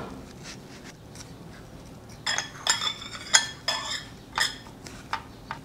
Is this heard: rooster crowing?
no